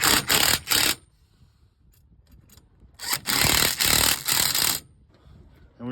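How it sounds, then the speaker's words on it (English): A power tool drives carriage bolts into a boat swim platform in loud, close whirring bursts, three short runs, then a pause with faint clicks, then a longer stretch of bursts. "So all we have to do now is just start tightening stuff up."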